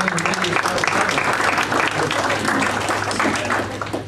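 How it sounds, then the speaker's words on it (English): Audience applause at a campaign thank-you event, a dense round of clapping from a crowd held steady throughout and easing slightly at the end, with a low hum underneath. "I want to have you all give yourselves a round of applause"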